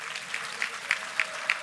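An audience claps at a university convocation ceremony, moderate and continuous, with a few sharp, regularly spaced claps standing out close by.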